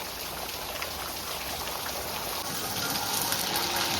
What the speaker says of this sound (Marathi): उठ रे बाहेर किती पाऊस पडतं बघ